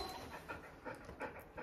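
A high-energy dog pants quickly and steadily close by, with short rhythmic breaths repeating evenly throughout and no talking.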